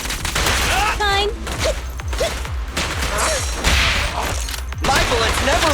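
Rapid bursts of gunfire from ranged attacks in the action video game Zenless Zone Zero, with sharp shots repeating steadily across the clip over game sounds and character voices.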